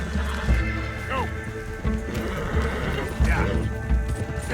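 A horse gallops in the Red Dead Redemption 2 video game, with rhythmic thudding hoofbeats and occasional whinnies under continuous in-game noise and voices.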